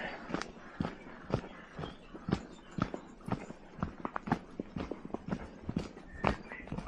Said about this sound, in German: Und da kommt ein Pferdchen mit einem Begleiter.